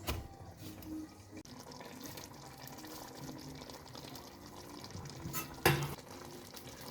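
Green beans in a fresh tomato and olive oil sauce (fasolakia ladera) get stirred in a pot, giving a soft, steady scraping and bubbling with a sharper clatter near the end; no one talks.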